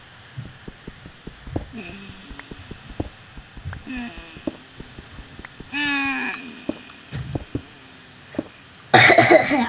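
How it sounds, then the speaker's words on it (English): A person fakes a few coughs with their voice during Minecraft survival multiplayer play. The short, forced bursts come close to the microphone among scattered game clicks and blips, then a loud burst of noise near the end. "Insert fake cough here."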